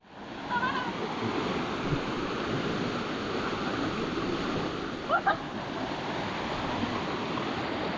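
A busy waterfall at a tourist spot in Ubud, Bali, sends out a continuous broadband rush of falling water, loud and steady throughout, with faint distant voices and a couple of brief chirps over it.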